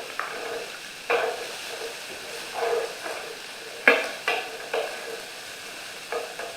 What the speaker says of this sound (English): I'm gonna stir fry some onions, thinly sliced onions, along with, I made some julienne carrots.